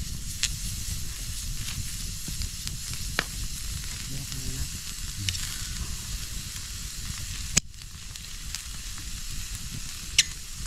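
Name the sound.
chicken grilling and sizzling over fire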